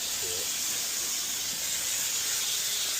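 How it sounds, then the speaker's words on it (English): A steam cleaner hisses continuously inside a lorry cab during a deep clean, a loud, steady, close-up rush of steam with no talking. "I'll just steam and then you just wipe everywhere"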